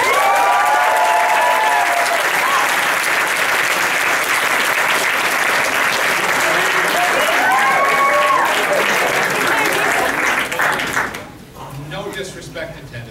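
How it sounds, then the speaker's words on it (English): A cinema audience bursts into sustained loud applause for a guest, dense clapping with some cheering that carries for about ten seconds before tapering off into scattered claps and room noise. "Everyone give a warm round of applause for Mr. Leonard Maltin."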